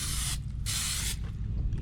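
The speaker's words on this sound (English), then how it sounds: "I'll go ahead and do a nice spray" Cooking spray is sprayed into a foil-lined Dutch oven in two short, close hissing bursts with a brief pause between them.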